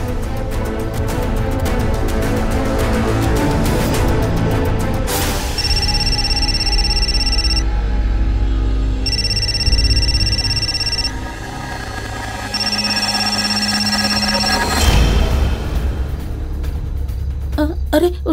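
A telephone rings in repeated steady bursts with short gaps, over a dense background of TV crime drama music and low rumble.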